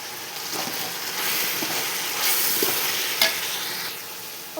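Eggplant and plantain fry in a pot for chicken biryani, with a steady close sizzle and repeated scraping stirs throughout, plus a sharp clink near the end.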